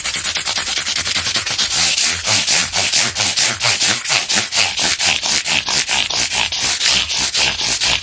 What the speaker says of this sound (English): stick the 1200 paper on it and then just run it up and down